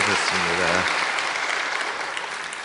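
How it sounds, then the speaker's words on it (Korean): A church congregation applauds warmly at a Wednesday worship service to welcome visitors. Dense clapping fills the room, a voice briefly speaks at the start, and the applause gradually fades over nearly three seconds. "저희가 대형교회가 드릴 수 있는 뜨거운 박수로 환영하겠습니다"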